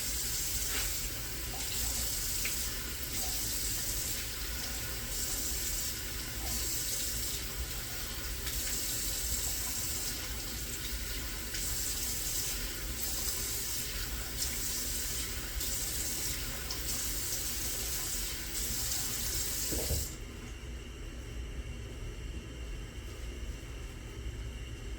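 Hotel bathroom tap running steadily into a sink for a rinse after shaving, a constant close hiss of water that cuts off abruptly near the end, leaving quieter room noise.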